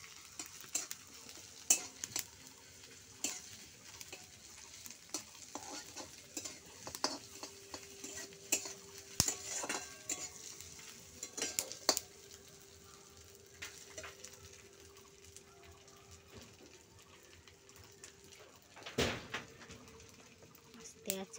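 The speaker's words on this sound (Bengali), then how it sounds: "কাঁচা লঙ্কা চিরা দিয়ে দিলাম, এখানে আদা রসুন বাটা দিয়ে দিলাম। আর ভালো করে নাড়াচাড়া করে" Green chilli and ginger-garlic paste stirred and frying in a pan for a Bengali dish, soft sizzling under repeated scraping strokes of a spatula and occasional utensil clinks, with a person talking over it.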